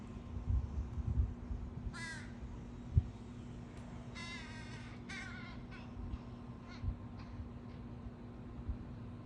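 A young raven near wires and trees in Spokane, Washington gives a few hoarse, raspy calls in short bursts, moderately distant over a low background hum.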